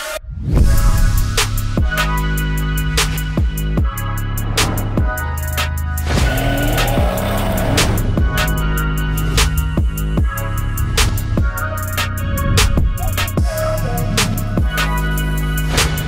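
A 440 bhp hybrid-turbo BMW 535D diesel pulls hard. Loud, close engine drone climbs through repeated gear changes with turbo whistle, and there are no voices.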